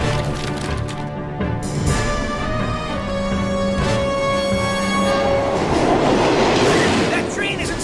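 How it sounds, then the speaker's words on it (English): A cartoon train speeds along the rails with a steady loud rumble, clattering wheels and a sustained whistle-like tone, continuous and close. "That train isn't slowing down!"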